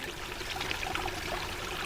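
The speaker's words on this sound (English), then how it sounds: "Here's one that's spring water." A spring water stream runs in a continuous, steady babble and trickle, close and fairly loud, with no voices over it.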